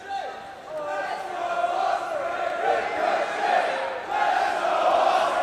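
A packed wrestling crowd in Newcastle at the Pro Wrestling World Cup finals roars and chants in sustained, swelling waves, loud and continuous, with a commentator talking over it.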